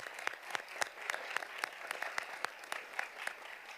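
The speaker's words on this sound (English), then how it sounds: "Another round of applause for Gracie DeMarinis" Sustained applause from an audience at a school board meeting after a student's instrumental performance, dense clapping with a steady crackling texture and no talk over it.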